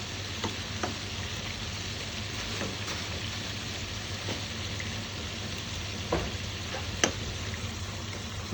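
Prawns for a Kerala-style roast sizzle steadily in a pan, a constant crackling fry broken by a few light clinks and scrapes as they are flipped.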